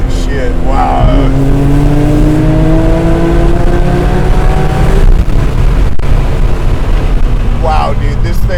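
An 800 hp BMW M Coupe accelerating hard, its engine note climbing through gear changes as a loud, close, sustained roar, with a voice speaking briefly over it.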